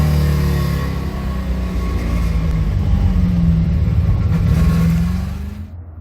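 Porsche 944 racecar with a Chevy small-block engine and a broken gearbox, left with only third and fourth gear, rolling slowly past with a loud, deep, steady rumbling drone that rises a little, then fades at the end.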